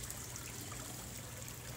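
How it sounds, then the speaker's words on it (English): Water trickles and drops by gravity into an aquaponics fish tank, a faint, steady liquid splashing with no voices. "You can see the water bubbling up on both sides just from the gravity, the water dropping."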